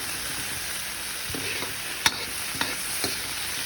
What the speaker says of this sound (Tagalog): Gisa natin sa kamatis.